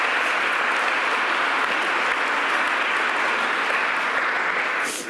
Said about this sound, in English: Let's give our governor another round of applause.